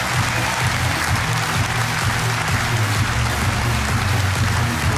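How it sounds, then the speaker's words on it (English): A large arena crowd at the DreamHack Winter 2014 CS:GO Championship grand final gives sustained, loud, dense applause that runs unbroken without any talk. "Keep the applause going."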